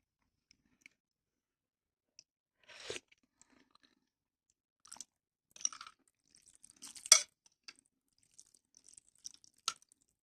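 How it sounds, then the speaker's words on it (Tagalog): Someone eats noodle soup with lettuce, with a few separate wet slurps and crunchy chewing bursts spaced across a quiet background and no talk. "Sarap maghigop ng sabaw."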